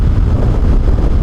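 Loud, steady wind roar buffets the rider of an Aprilia RS457 motorcycle fitted with a windscreen, a constant low rushing noise with no pauses.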